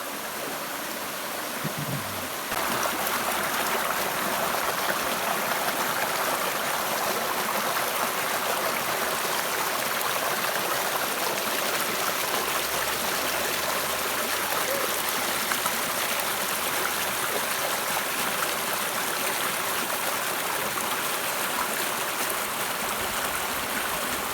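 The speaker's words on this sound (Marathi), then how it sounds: "ही सुंदर स्वच्छ वाहणारा पर्याय हा कुठेच तुम्हाला अनुभवता येणार नाही" A clean river stream in the Konkan countryside rushes in a dense, continuous wash of flowing water. It stays loud and even throughout, with a brief quieter moment at the start.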